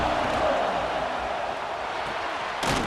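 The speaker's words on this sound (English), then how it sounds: "This crowd ready to make its presence known." Stadium crowd noise from the EA Sports College Football 26 video game rolls on as a continuous loud roar with a brief swell near the end.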